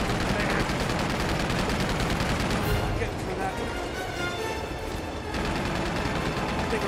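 Continuous pistol and SMG gunfire in Uncharted 2: Among Thieves, dense rapid shooting with echoing bursts that barely lets up, a short slightly quieter stretch in the middle, with voices talking over the fight.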